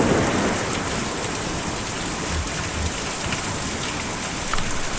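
Steady, dense rainfall from the video game Kentucky Route Zero hisses continuously with no letup, a broad even wash of drops with faint low rumbles underneath and no voices.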